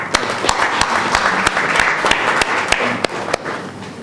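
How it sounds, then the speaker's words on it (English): Audience applause at a Social Business Design Lab session, a continuous bed of clapping punctuated by sharp, prominent individual claps close by at a roughly steady beat. "Let's give a big applause for him."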